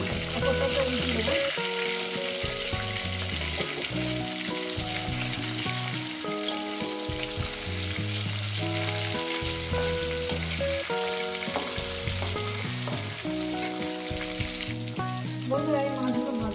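Rohu fish pieces fry in hot oil after being flipped, giving a steady, dense sizzle that runs loud and unbroken throughout, with faint background tones layered over it.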